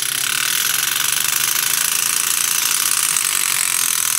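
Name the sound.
hammer handpiece tool hammering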